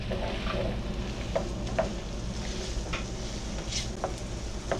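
Chopped yellow onion, cut into quarter-inch pieces, sizzling in a skillet for a Rice-A-Roni skillet supper: a steady, moderately loud frying hiss with a few soft stirring clicks and scrapes, and no talk.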